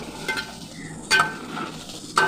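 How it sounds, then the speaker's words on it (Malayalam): Homestyle chicken curry is stirred in a pan, a soft sizzle broken by a few sharp scraping strokes of the spoon against the pan, close by and with no voices. "അതിലേക്ക് നമുക്ക് ചേർത്ത് വീണ്ടും കറിയൊന്ന് ഇളക്കി കൊടുക്കാം"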